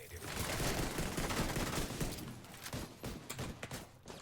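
Rifle gunfire in The Division 2 PvP, a dense fusillade of overlapping shots and bursts heard at a distance, fairly quiet, thinning toward the end.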